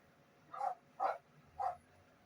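Dogs barking, three distinct evenly spaced barks at moderate distance, with quiet between them and no talk.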